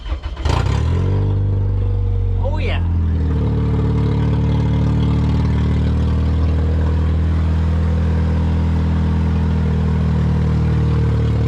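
A car engine cranks briefly, catches and fires up loudly, then settles into a steady, close idle that runs on alone, with a person's short remark over it.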